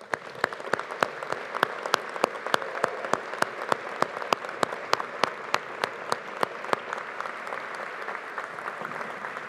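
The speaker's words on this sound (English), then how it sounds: "let's give these wonderful people a round of applause for everything that they've done" Steady applause from a large audience at a Strathclyde Business School graduation ceremony, honouring the graduates' supporters: dense, even clapping with sharp individual claps standing out, continuing for about ten seconds and tapering slightly at the end, with no talk.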